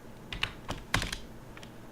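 Keys clack on a computer keyboard in a short, close burst of several taps at irregular intervals, quiet and with no talking.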